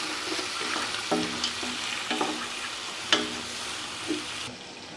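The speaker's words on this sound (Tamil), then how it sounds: "இப்போ புதினா, மல்லி இலை இதெல்லாம் நல்லா வதங்கிடுச்சு" Mint and coriander leaves sautéing in a pan for mutton biryani, a soft steady sizzle broken by a few stirring clinks and scrapes, close by with no talk.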